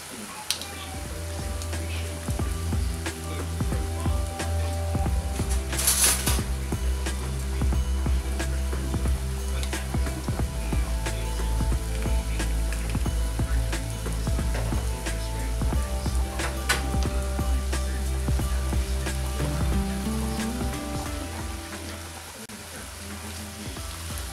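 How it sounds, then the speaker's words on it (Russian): Beef simmering with a stock pot under a lid in a frying pan for a cottage pie, giving a steady close bubbling sizzle with faint ticks that runs throughout without a break. "И оставлю потом протушиться под крышкой."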